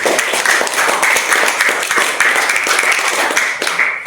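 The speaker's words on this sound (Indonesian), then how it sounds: "Mari kita sama-sama memberikan tepuk tangan kepada kelompok yang sudah tampil" Classmates clap for a student group that has just finished presenting their discussion results in a classroom, a brisk, fairly loud patter of many hands close by that continues throughout.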